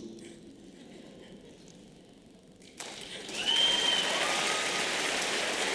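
An audience breaks into applause partway through, and the clapping builds into a loud, dense, sustained roar that continues to the end.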